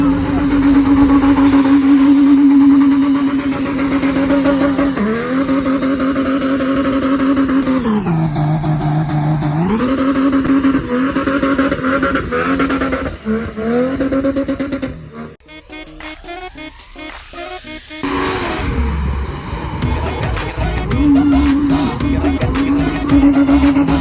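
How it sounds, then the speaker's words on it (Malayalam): A car drifting in the UAE desert, its engine droning loud and steady with pitch rising and falling as it revs, a short dip midway and a burst of rough, gritty noise before the engine returns. "എന്റെ ജീവിതത്തിൽ തന്നെ ആദ്യമായിട്ട് ഞാൻ ഡ്രിഫ്റ്റിംഗ് എക്സ്പീരിയൻസ് ചെയ്തു"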